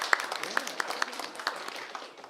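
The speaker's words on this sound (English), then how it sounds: "He doesn't often get applause." Scattered applause from a small crowd at a village council meeting, a few seconds of light, uneven clapping.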